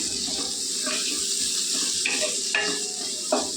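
Onions frying in a pan with turmeric for a tomato curry give a steady close hiss and sizzle, with a few soft stirring knocks and scrapes.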